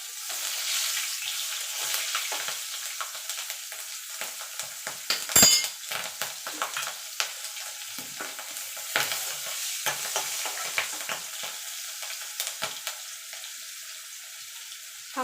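Slit green chillies and whole cumin sizzle steadily in hot oil in a pan for Bengali kochur shak, with scattered stirring scrapes and one sharper clatter partway through; no voices.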